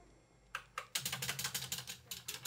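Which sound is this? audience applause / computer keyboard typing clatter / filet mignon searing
computer keyboard typing clatter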